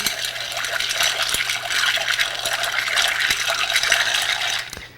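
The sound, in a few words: stirring a cocktail with ice to chill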